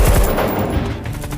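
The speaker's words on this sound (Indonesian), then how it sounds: "Komandan brigade mereka mulai menembak untuk mengalihkan perhatian seri beserta tim snipernya." Sustained gunfire from a brigade firing in a sniper war film, dense overlapping bursts of shots, loud and close, filling the whole stretch with no talk.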